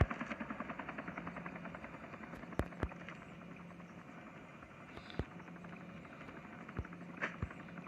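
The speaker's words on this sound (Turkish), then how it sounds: "Bir helikopterle geldi almaya." Helicopter departing in the Call of Duty video game, a rotor chop that is strongest at the start and thins out as it recedes, with a few sharp clicks and bangs over it and no speech.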